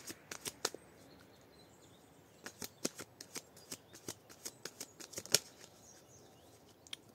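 Deck of cards being cut and handled, a series of quick, crisp card snaps and flicks in short clusters, close and quiet, with no talk.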